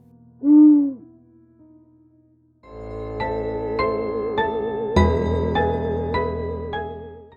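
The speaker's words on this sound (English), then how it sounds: "All that can be heard is the haunting hoot of an owl" A single deep owl hoot rings out near the start, followed after a pause by low sustained tones and rhythmic chimes.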